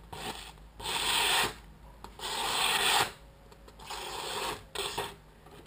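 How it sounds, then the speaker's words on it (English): A balisong knife edge drawn across ceramic sharpening rods, heard as a few separate, close, quiet scraping strokes that each last under a second with short pauses between, and no voices. "I'll sharpen it up a little more. My ceramic rods."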